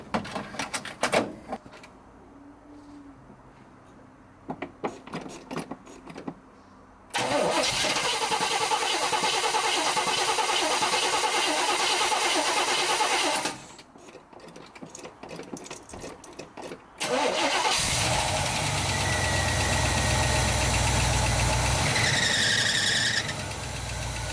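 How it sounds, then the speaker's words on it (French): A Chevrolet Caprice with a leaking carburetor cranks on its starter in repeated bursts, then catches and runs with a loud, steady idle; a high squeal rises near the end. "pour démarrer, il va falloir remplir la cuve, ça va prendre un petit peu de temps au démarreur"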